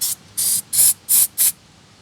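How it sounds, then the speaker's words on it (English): Brake cleaner sprayed from a can onto engine parts of a Mazda 323F in five sharp, close hissing bursts, each about a quarter second, with short gaps between. "Yes, I have brake cleaner, so let's try giving everything a bit of a blast in there."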